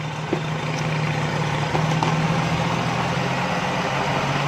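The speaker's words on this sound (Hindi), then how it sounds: "इधर इसका इंजन का साउंड बिल्कुल ठीक हो, आवाज़ सही आ रही है" A Suzuki Bolan van engine runs with a steady low rumble, held at a fairly even level throughout, close by.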